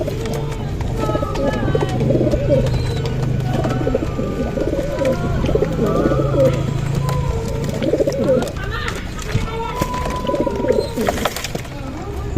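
Pigeons given water to bathe in on a very hot day coo steadily and overlap one another at close range, with a continuous dense backdrop and a person talking.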